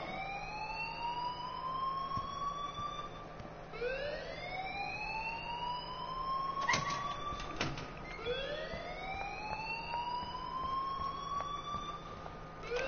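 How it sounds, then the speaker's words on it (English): Alarm in the video game Life is Strange, a loud rising electronic siren-like whoop repeating in steady sweeps, with a couple of sharp knocks midway and no talking. "Leave Miss Caulfield alone, and please turn off that alarm since that's your job"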